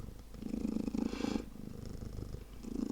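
A warm cat's steady purr sits close to the microphone, a continuous rumbling drone with rhythmic pulses that swells and dips across the moment, with no talking over it.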